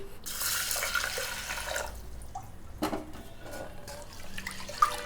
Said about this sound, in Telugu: కప్పు తీసుకుని దాన్ని 2 సార్లు బాగా కడుక్కోండి